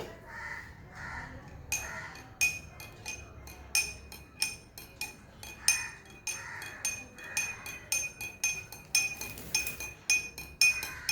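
A spoon stirs two teaspoons of sugar into a glass of Tang drink, giving quick, bright clinks against the glass that repeat steadily and close up for several seconds.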